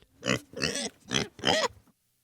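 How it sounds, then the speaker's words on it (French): Four short, rough pig grunts in a quick, even series, close and moderately loud, then quiet. "Un cochon."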